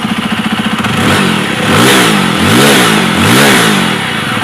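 Jawa 42 motorcycle engine at close range, settling from a thumping idle into three loud rising-and-falling throttle blips, each revving up and dropping back.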